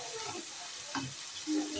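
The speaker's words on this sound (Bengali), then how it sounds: "মশলাটাকে ভালোভাবে কষিয়ে দিয়েছি।" Dry ground spices (turmeric, chili, coriander and cumin) fry in a pan for vegetable khichuri, giving a soft, steady sizzle with a few quiet stirring scrapes, and no voices.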